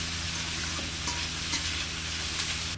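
A dense, steady frying hiss of chopped onions with whole cumin and five-spice, close and fairly loud, with faint stirring scrapes and no talking.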